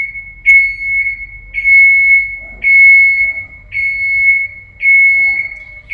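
A moving scissor lift's alarm sounds in a repeating pattern of loud, steady electronic beeps, each about half a second long with short gaps between them, with a little faint background noise.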